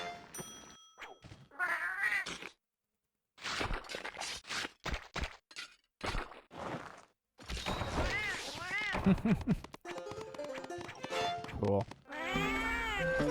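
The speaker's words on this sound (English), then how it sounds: "Kind of cute to have the second cat cooking too." In the Monster Hunter Freedom Unite video game, cat companions cook a meal and let out a few meows among clanks, chimes and game music, with a person talking over parts of it.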